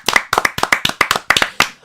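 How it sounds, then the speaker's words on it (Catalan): A small group clapping in unison, about a dozen crisp, evenly spaced claps close by with brief gaps between them, and no talking. "Aplaudim"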